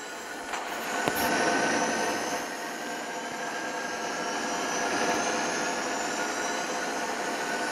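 A plane engine roars at full speed in the video game Gangstar Vegas, a steady jet-like drone that holds for several seconds with a brief swell near the start, no talk over it.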